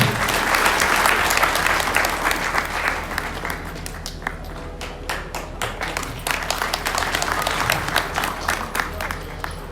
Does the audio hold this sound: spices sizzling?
no